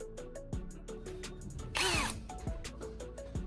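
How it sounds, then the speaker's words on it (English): A handheld drill fitted with a sanding disc grinds the tip of a carbon rod in several short, whining bursts, one longer harsh grinding pass in the middle, close and fairly loud. "I used a standard carbon rod and a sanding disc attached to a drill to grind the end of the carbon rod"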